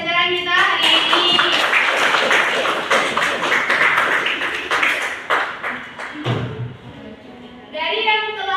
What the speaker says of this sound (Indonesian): Sekarang tepuk tangan dulu untuk pembelajaran kita hari ini.